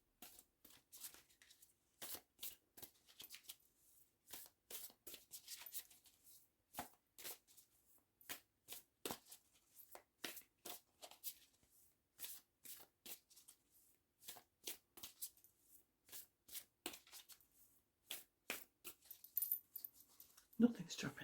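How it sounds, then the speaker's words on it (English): Tarot cards shuffled by hand at close range, a long run of crisp, papery riffling bursts and taps repeating in quick irregular rhythm. "I'm going to shuffle 3 more times and then I'll cut the cards and pull."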